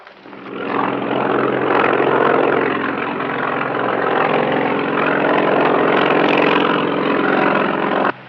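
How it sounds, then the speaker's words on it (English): A loud, steady helicopter drone with a dense rotor thrum fills the whole clip, close and continuous without a break. "They've got a helicopter on the way to pick you up."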